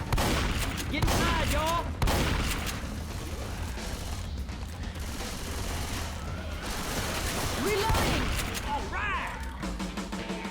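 Rapid bursts of gunfire from the zombie shooter Left 4 Dead 2 on the Cold Stream campaign, loud, dense and continuous, with a voice talking over the shooting.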